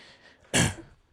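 A single short sneeze bursts out abruptly mid-clip during a quiet indoor conversation, loud against faint background.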